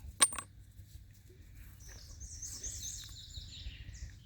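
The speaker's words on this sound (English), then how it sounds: "It's got a real weird ring to it too. A silver ring." A silver coin dug from a swamp strikes with a single sharp, ringing clink right at the start, its metallic tone fading while birds chirp softly in the background.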